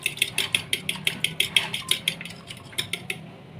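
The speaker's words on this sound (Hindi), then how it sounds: "तो ये मैंने दही लिया है, इसको पहले अच्छे तरीके से हम लोग फेंट लेंगे ताकि इसमें कोई भी लम्स ना रहे।" Yogurt whisked in a bowl for raita, a rapid run of about a dozen sharp metallic clinks of utensil against the bowl in quick, fairly even rhythm, close and clear.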